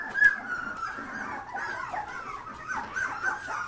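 Labradoodle puppies whimper and yip in a continuous, fairly faint chorus of thin, wavering cries, close by, with no clear talk over them.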